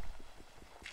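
Footsteps crunch over gravel in the Minecraft video game, a quick, even run of soft, faint steps played alone with no talk.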